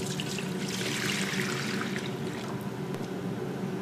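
A quart of milk is poured into a pot for lemon pastry cream, giving a steady, close liquid stream that runs without a break for a few seconds.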